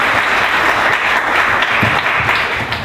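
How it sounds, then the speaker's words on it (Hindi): Sustained applause from a church congregation, dense and steady clapping filling the space throughout at close range, with no speech over it. "आपको अच्छा लग रहा है तो एक अच्छा ताली बजाएंगे प्रभु यीशु की होता है"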